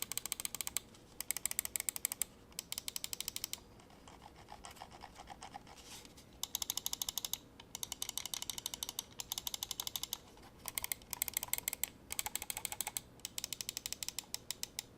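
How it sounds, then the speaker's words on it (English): Buttons on an LTC cradle-charge wireless mouse, the GM022, are pressed close up in quick bursts of sharp, rapid clicks, separated by short pauses in an otherwise quiet room. "take a quick listen to all the buttons so you can hear what they sound like"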